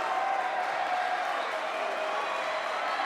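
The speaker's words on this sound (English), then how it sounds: "And the crowd is going wild here" A basketball crowd in a high school gym cheering and applauding wildly, a dense, steady roar of voices and clapping throughout.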